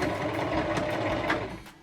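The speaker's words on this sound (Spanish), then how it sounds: "vamos a coser en reverso, es decir, vamos a darle este botón de aquí para rematar la costura" A sewing machine stitches in reverse while sewing a zippered lined pouch, its motor whirring steadily and close with a fast, even needle rattle for the full stretch.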